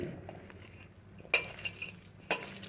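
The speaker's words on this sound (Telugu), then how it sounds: "నీళ్ళు లేకుండానే ఇలాగా కలిపేసుకోవాలి" Cauliflower pakoda batter is stirred by hand with no water added, giving a soft, quiet mixing texture broken by two sharp clinks of a utensil against the bowl, with no voices.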